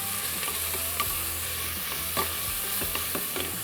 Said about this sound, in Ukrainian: Кидаємо сюди нашу морковку, гарненько її обсмажуємо.